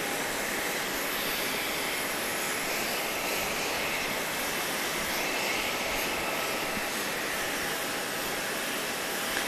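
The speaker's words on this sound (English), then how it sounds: "So right now we've got 1, 2, 3, 4, 5 jet planes here." Jet airliners at Grand Cayman airport, including Cayman Airways 737 MAX 8s and a United 737-900, make a steady, loud broadband roar that holds without a break throughout.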